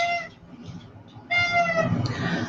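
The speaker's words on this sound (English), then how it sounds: "My dog's going to squeeze his toy now" A dog squeezes its squeaky toy, giving two long, high, wavering squeals split by a short pause, loud and close.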